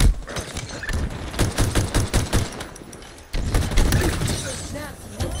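Rapid weapon fire in the video game Halo Infinite, dense bursts of shots in quick succession with crackling impacts, loud and close, pausing briefly before another volley, with a voice talking underneath.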